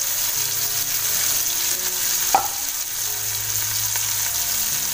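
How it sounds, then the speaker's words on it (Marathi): Spices and garlic tempering in a kadhai with asafoetida, bay leaf, red chilli, curry leaves and onion, giving a loud, steady close-up sizzle throughout, broken by one brief click midway. "कढईमध्ये फक्त मी फोडणी देणार आहे"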